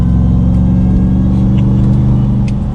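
A 2021 RAM 1500 TRX pickup pulls away under light throttle on a back road, its engine a loud, deep, steady rumble building slightly at low revs, with no talking.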